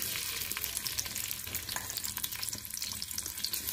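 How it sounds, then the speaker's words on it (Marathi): Onion frying in hot oil, a continuous soft crackling sizzle heard close but fairly quiet, with faint stirring scrapes mixed in. "आणि कांदा लाल होईपर्यंत फ्राय करून घ्यायचा।"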